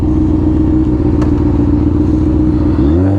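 A motorcycle engine rumbles loud and steady nearby, with a sharp shift in its tone near the end as it passes on a busy road.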